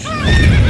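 A horse neighs in The Witcher 3 video game, one loud, close whinny that rises and trembles over a low rumble, with no talk.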